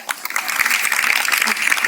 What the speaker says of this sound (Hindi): तो ताली बजाओ ना यार